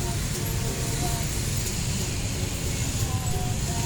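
Buses idle and rumble at a small Indonesian bus agent terminal, a steady low engine drone with traffic noise around it and faint distant chatter.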